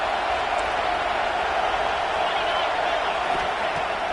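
Broad, steady roar of a stadium crowd at a football game on a big third down, loud and continuous throughout with no break.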